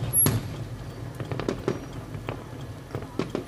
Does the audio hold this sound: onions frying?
no